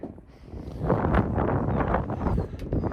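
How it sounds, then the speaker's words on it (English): Wind gusts across an open farm field, a steady broadband rush buffeting the microphone and swelling and easing throughout. "That wind is terrible."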